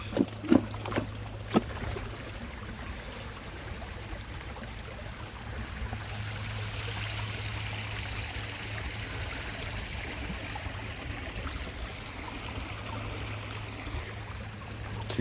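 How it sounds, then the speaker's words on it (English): Creek water flows in a steady, even rush outdoors, with a few sharp knocks and clatters in the first two seconds before the flow continues alone. "Creek still flows."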